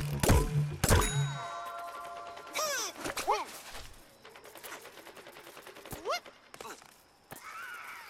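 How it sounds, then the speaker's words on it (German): Video game gunfire and impact effects from Plants vs. Zombies Garden Warfare, with sharp bursts of shots, metallic dings and rising tonal zaps spread unevenly across the clip, some loud and some fainter. "Dr. Cactus hat geknallt"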